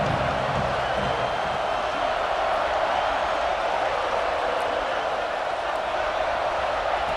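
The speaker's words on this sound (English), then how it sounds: "These fans are going absolutely nuts." A stadium crowd cheering in the EA Sports College Football 26 video game: a dense, steady roar of fans that holds at a loud, constant level from start to finish, with no distinct voices standing out.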